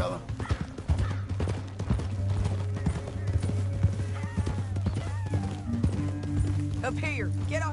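Hooves clip-clop as a horse runs in the video game Red Dead Redemption 2, a steady rhythmic gallop under continuous talking, with a droning music bed and a brief whinny near the end.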